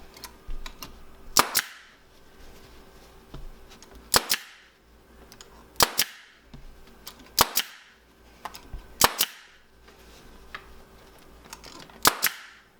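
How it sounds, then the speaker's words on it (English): A staple gun fires into striped upholstery fabric pulled over a frame, giving sharp, loud single snaps roughly every one and a half seconds, close by, with quiet handling noise in between. "you're just going to pull it over and staple"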